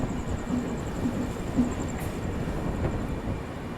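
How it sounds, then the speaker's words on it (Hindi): A Humsafar Express train overtakes a special passenger train, with a constant rumbling roll of wheels on track, a few clacks over rail joints and a faint high whine, heard from on board. "और यहाँ पे हम ओवरटेक कर रहे हैं धनबाद शकूर बस्ती स्पेशल"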